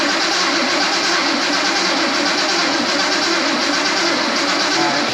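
A turbocharged 1973 Datsun 240Z, left sitting for over twenty years, cranks over with a loud, dense, steady mechanical roar close by. The engine stumbles without settling into a clean idle.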